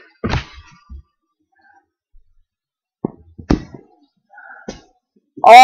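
A football kicked during a backyard game, with several sharp, loud thuds of foot striking ball spaced a second or more apart and quiet between them.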